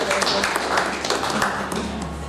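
An audience at a 2024 International Day of Peace summit in Abuja, Nigeria claps steadily in a large hall, a dense patter of many hands at moderate level.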